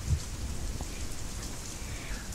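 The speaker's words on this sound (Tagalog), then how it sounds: "bumuhos na nga ang malakas na ulan" Heavy rain pours down in a dense, steady patter that stays fairly quiet and continuous, with no voices.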